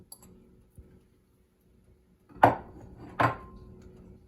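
A half onion, already chopped, drops into a cooking pan in two quick, close bursts of clatter and sizzle about a second apart, after a near-silent stretch with a faint knock.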